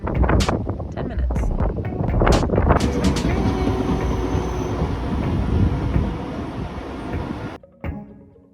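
Train at a station in Vienna or Bratislava, a loud rumbling and rattling passage with sharp clanks and squeals, followed by a sudden drop near the end, wind buffeting the microphone.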